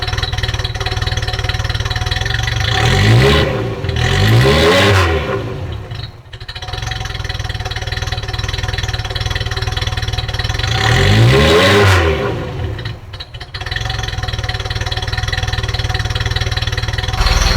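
A Ferrari 308 engine idles loudly nearby and is revved twice, each rev rising and falling in pitch before settling back to a rough idle.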